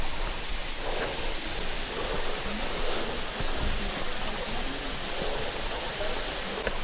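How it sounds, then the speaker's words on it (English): A waterfall on a trail near a temple built into a cliff gives a steady broad rushing roar, constant and even throughout, with no voices. "that's a proper waterfall there"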